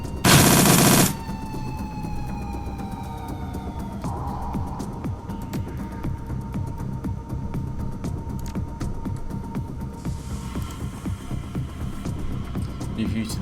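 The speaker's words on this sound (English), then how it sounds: "Alexander, full auto fire." Automatic weapon fire in the Shadowrun Dragonfall game: a loud, dense broadband burst in the first second, followed by steady rapid crackling and a low rumbling hum, with a tonal whine fading in the background.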